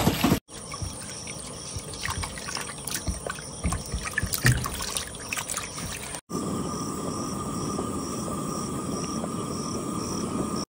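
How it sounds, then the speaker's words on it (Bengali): Hilsa fish being washed in water, with running water, splashing and trickling under handling noises, followed by a steadier flow of water from a tap. "এবার মাছগুলো ধুয়ে নেবো।"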